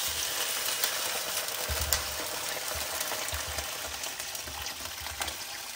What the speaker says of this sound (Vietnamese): Rồi Dung chứa nước sôi vào